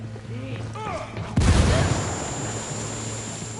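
A frag grenade goes off in Ghost Recon, a single loud gaming blast about a third of the way in that fades into a rumbling tail, with in-game voices talking before it.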